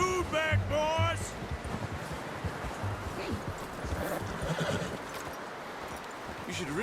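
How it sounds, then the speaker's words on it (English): A horse whinnies loudly near the start in the video game Red Dead Redemption 2, followed by steady clopping hooves and rustling movement, with a voice speaking over it. "You should really tether that horse, Arthur."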